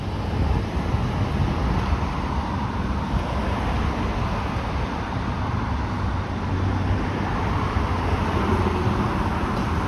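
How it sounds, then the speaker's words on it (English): Strong wind buffets the microphone during an outdoor walk along a road, a continuous loud rushing roar with faint traffic noise mixed beneath it. "the wind is not too bad, although it can be windy any time of the year."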